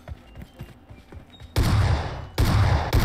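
Gunfire in PUBG hardcore mode: after a quiet stretch of faint clicks, two loud bursts of close rapid shots roar in, separated by a brief pause.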